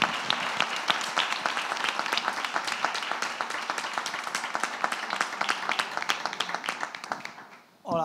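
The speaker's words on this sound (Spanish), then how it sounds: "Y quería agradecerles y darles un aplauso de parte de todos." An audience at a multiple myeloma information day in Marbella claps warmly for several seconds, dense and steady, then fades out as a voice starts at the end.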